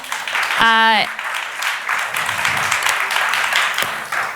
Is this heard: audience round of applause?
yes